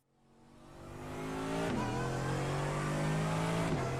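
A safety car accelerates on a lap of Phillip Island circuit, its engine building from quiet to a loud, steady drone with gear changes, heard alone without talk.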